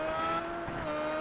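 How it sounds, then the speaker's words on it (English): Side-exhaust IndyCar engine in the iRacing simulation at Motegi, a steady loud buzzing drone with a strong tonal whine held throughout, no voices. "I love that old school side exhaust"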